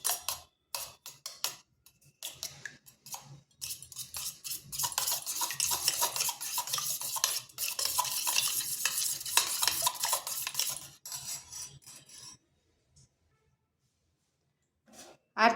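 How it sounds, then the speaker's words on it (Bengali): Two eggs with salt being whisked in a bowl, a rapid close-up clatter of utensil against the bowl that runs steadily for several seconds before slowing into a few last taps. "এবার ডিমটা ভালোভাবে ফেটিয়ে নিচ্ছি।"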